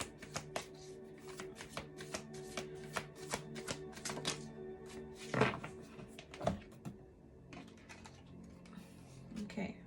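Tarot cards being shuffled by hand before one more draw, a long run of quick crisp taps and riffles with a few heavier thumps, close and fairly soft over a steady musical background.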